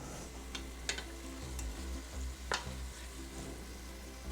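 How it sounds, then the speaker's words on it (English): Ground hamburger meat fries quietly in a pot with ginger and turmeric, giving a low, steady sizzle and a few sharp scrapes from stirring. "And cook until the meat is browned."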